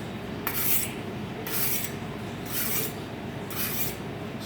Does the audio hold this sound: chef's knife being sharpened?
yes